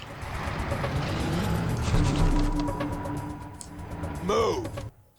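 A car engine drones steadily through the Watch Dogs game as the vehicle drives, loud and continuous with a rising surge near the end before cutting off abruptly.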